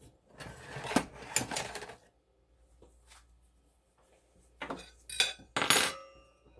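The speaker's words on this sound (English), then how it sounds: "let me dish myself out some" Baked rigatoni scooped from a baking dish with a serving utensil: a few bursts of metal scraping and clinking against the dish, separated by quiet gaps, fairly close and without talk.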